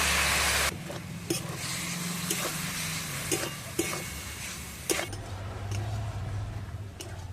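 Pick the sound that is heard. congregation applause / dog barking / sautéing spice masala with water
sautéing spice masala with water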